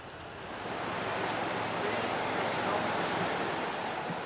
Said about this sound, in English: The only sound, the rhythm of the waters of the River Dee